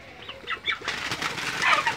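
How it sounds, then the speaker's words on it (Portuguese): Chickens squabble in a yard, with sharp clucks and squawks over bursts of flapping wings, close and lively, growing busier and louder toward the end. "Tá uma guerra aqui das galinhas."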